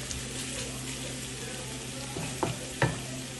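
Bombay duck fish sizzles as it fries with spices such as ginger and green chilli in a pan, a steady close crackle broken by a couple of scraping stirs near the end.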